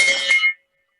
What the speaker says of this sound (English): but we've got the scramble bell.